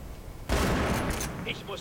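Gunfire in the video game Battlefield Bad Company 2: after a brief lull, a loud, dense burst of shots breaks out and rattles on, with scattered fainter reports trailing off.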